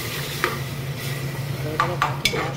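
Water and lemon, tomato, ginger and garlic added to a hot pan for ghugni, with a steady soft sizzle under a few scraping stirs of a spoon against the metal, close and continuous.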